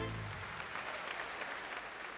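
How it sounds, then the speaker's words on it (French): An audience at an evening event applauds steadily for a couple of seconds, a dense, even wash of clapping heard from within the room with no voices over it. "Est-ce que vous pouvez vous applaudir?"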